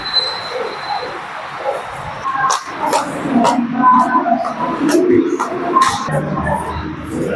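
Trains at Sanpada railway station in Navi Mumbai: a loud, continuous rail rumble with metallic wheel squeals and clanks rising and falling in the foreground.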